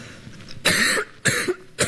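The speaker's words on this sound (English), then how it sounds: "This cough is very annoying." Three harsh coughs come close up in quick succession, each a short rough burst separated by brief pauses.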